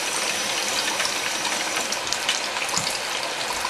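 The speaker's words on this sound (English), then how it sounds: "I'm adding a half a cup of water for each can that I'm putting in" Water is poured into a hot pan holding rice and a pat of butter for beef fried rice, a steady rushing hiss and sizzle close by that keeps going without a break, with no talking.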